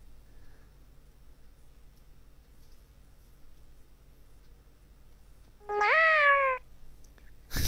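A cat lets out a single drawn-out meow, loud and close, rising then falling over about a second, answering a person's call against a quiet room hum.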